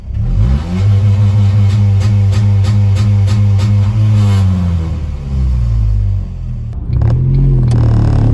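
A Ford Mondeo Mk3 holding revs against an Omex launch control limiter, loud and close, its engine droning steadily with rapid stuttering cut-outs for several seconds, then dropping to idle before a short blip of revs.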